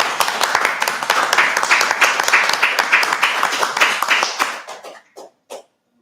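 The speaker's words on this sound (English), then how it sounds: "please give a big round of applause to SAHRA's Built Environment Unit" Audience applause at a heritage webinar for SAHRA's Built Environment Unit: dense, close clapping for about four seconds, then thinning to a few scattered final claps before silence.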